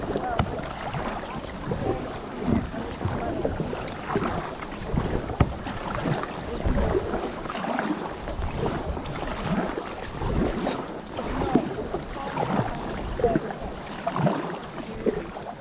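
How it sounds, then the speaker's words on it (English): A kayak paddles on the open sea, with a continuous wash of water and wind buffeting the microphone, and uneven splashes and knocks throughout. "Paddling in."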